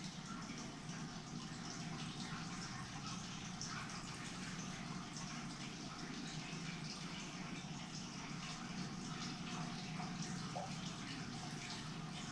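Paint pours steadily onto a canvas, a soft, continuous liquid trickle that stays faint and fairly close throughout.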